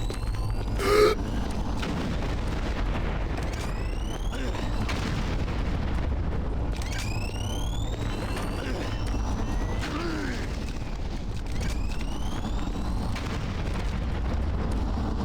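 Booming grenade blasts in Doom 3 BFG Edition, spaced bursts over a steady rumbling game background with swooping effects, while a voice talks over the action.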